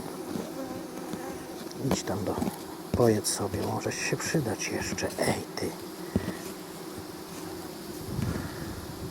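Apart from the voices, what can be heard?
honeybees buzzing near buckwheat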